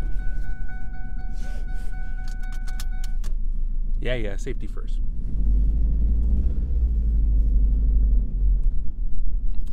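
Ford Focus ZX3 engine running rough, a loud, steady low rumble that grows heavier in the second half, with a person talking briefly over it.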